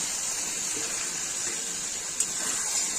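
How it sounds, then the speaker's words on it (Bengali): Chicken pieces going into a hot pan, a steady broad hiss of frying fat that holds for about three seconds with a brief sharper crackle near the end, fairly loud and close with no voices. "এবার আমি মাংসগুলো ছেড়ে দিচ্ছি"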